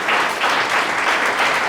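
Church congregation breaking into sustained applause during a worship service, a dense, steady clapping that fills the room and rises and falls slightly over its short length.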